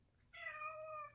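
A kitten gives one clear, drawn-out meow lasting about a second, close and fairly soft in a quiet indoor room.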